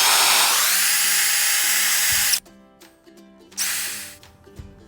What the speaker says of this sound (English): what I need to do is pre-drill for them